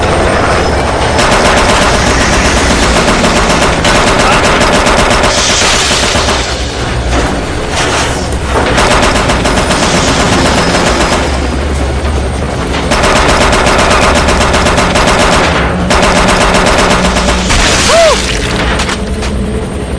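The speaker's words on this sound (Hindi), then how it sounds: "मैं उस पर फायर करने वाला हूँ।" Loud, continuous machine-gun fire from a helicopter in a dubbed horror action movie scene, with rapid bursts and booming impacts layered over a steady rotor and engine roar, nearly unbroken for twenty seconds.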